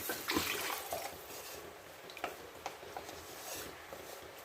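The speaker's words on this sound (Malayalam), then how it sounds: "കുറച്ച് വെള്ളം ഒഴിച്ചു" Water is poured into a cooking pan of egg curry, splashing and trickling steadily at close range, with a few small clinks and knocks, soft and continuous throughout.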